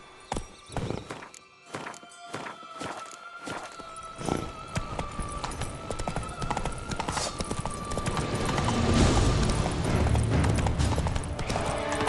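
Hooves of Roach, the horse in The Witcher 3: Wild Hunt Blood and Wine, clip-clop in a steady rhythm at first, then give way to a louder, dense game soundscape with a neigh and layered background noise.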